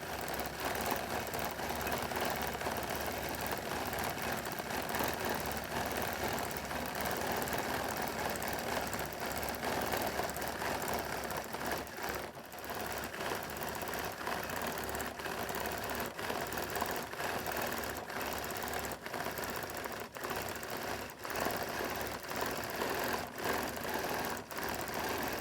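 Sewing machine stitching zigzags and curvy decorative lines into a quilt, a continuous fast whirring hum with rapid needle clatter running steadily, with only brief pauses.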